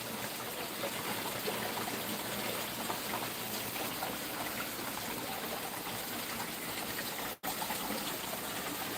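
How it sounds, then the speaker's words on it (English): Water flowing through a backyard creek, a loud steady rushing and trickling close by, continuous for the whole stretch apart from one momentary dropout. "Water is loud."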